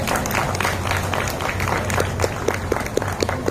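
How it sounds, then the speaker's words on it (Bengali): Applause from a festival audience after a dance drama performance at a Durga Puja cultural event, with dense, steady clapping that carries on under faint crowd murmur. "একটা বড় হাততালি দিয়ে দিন"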